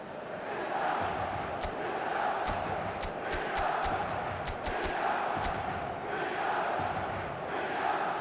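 A large stadium crowd roars steadily in the football game eFootball Mobile, a dense, continuous wash of chanting and cheering with sharp percussive bangs scattered through it.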